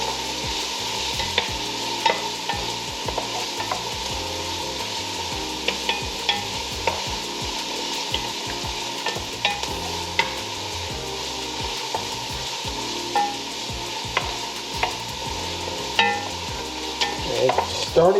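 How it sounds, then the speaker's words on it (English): Onions and garlic sauteing in a pan for collard greens, a steady close sizzle broken by scraping stirs, with no talking. "I always love the smell of onions and garlic sauteing"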